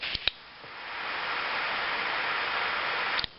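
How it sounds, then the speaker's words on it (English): A steady broadband hiss of gas rushing from a Ronson JetLite butane torch lighter, running for about three seconds, framed by a couple of sharp clicks at the start and end. "when you push the button down, you might have heard it sort of hiss there"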